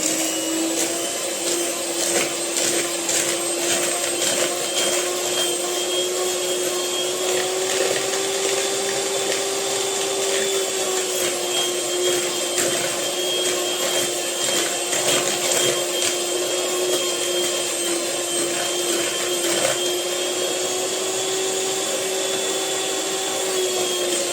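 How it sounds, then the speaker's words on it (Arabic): An electric mixer whirs continuously while beating dessert ingredients, a loud, steady motor whine with a constant pitch and rattly, scraping texture that runs unbroken for the whole stretch with no voices. "نضرب ده بقى ايه بالمضرب"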